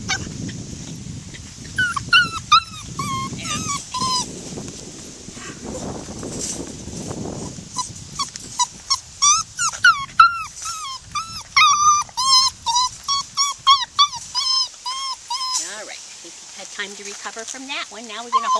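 A young female puppy whimpers and yips in a long run of high, wavering cries, close and fairly loud, while a person speaks softly to it in between and early on.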